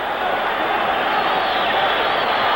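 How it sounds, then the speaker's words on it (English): Boxing crowd at a 1964 middleweight bout roars continuously in the final round, a dense, even cheer filling the arena with no breaks, heard at a distance through an old broadcast. "Listen to the crowd."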